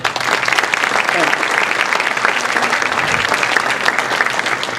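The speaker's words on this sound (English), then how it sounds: "ask us all to join me in a round of applause for our great political leadership" A hall full of people applauds at a Mizzou public forum on the HB253 tax plan, a loud, even wash of clapping that carries on without a break from start to finish.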